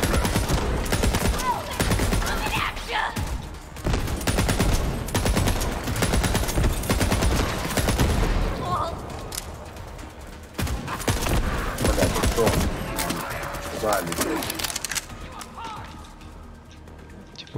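Sustained machine gun fire in the shooter game Borderlands 3, loud rapid rattling in long bursts with brief pauses, easing toward the end, while someone talks over it.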